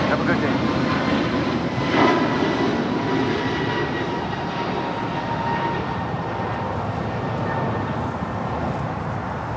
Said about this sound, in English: That is American Airlines 143 departing to Honolulu on an A321neo